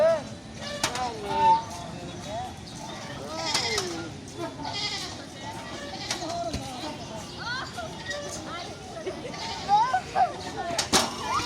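Several goat bleats come and go over a steady background of people chattering close by, with a louder burst of cries near the end.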